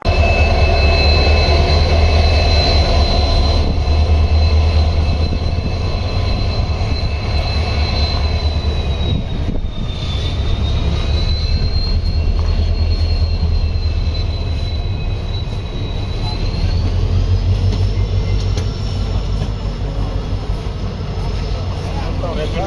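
A passenger train rolls into a small village station in the Darsi area, its heavy rumble and wheel noise sustained and close throughout, with a high whistling tone rising and falling as a crowd murmurs in the background.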